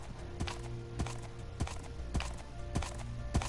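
Minecraft horse on PS4, hooves clip-clopping in a steady repeated rhythm of sharp thuds, close and clear over a low background hum.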